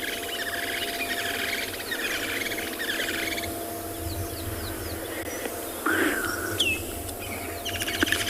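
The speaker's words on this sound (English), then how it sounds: "Some of the calls that you might hear from the birds in the background, that's woodland kingfishers" Woodland kingfishers calling in the background at sunset in the African bush, repeated trilling, chirping phrases over a steady ambient hum, with other birds chirping now and then.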